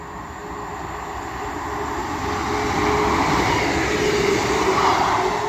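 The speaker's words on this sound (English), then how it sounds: "The first train to come through will be a Class 158 running from Leeds to Wigan" A Class 158 diesel train running from Leeds to Wigan Wallgate passes through Castleton station, its rumble and rail noise swelling steadily as it draws closer, with no voices.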